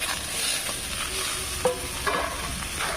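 Fish curry with flat beans and potatoes being stirred in a frying pan, a steady low sizzle with a few scraping knocks of the spoon, close and moderately loud, no voices.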